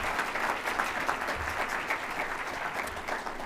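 Audience applause fills a room at a Hispanic Heritage community breakfast, with steady, dense clapping that holds at an even level throughout, with no pauses or voices rising above it.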